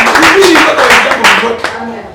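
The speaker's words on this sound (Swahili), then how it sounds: "Hiyo piga makofi." A church congregation claps hands together in a loud burst of applause, mixed with voices calling out over the clapping.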